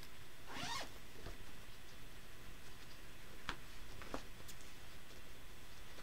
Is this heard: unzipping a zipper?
yes